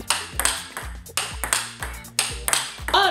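Table tennis ball struck repeatedly with a racket fitted with C48 and R rubbers, producing sharp, close pings in a steady rally rhythm, each hit bright and clear with no talking.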